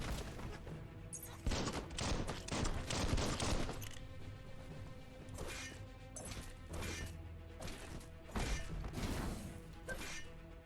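Video game gunfire in Biomutant: rapid bursts of sharp shots and impacts in clustered volleys with short gaps, loud and close.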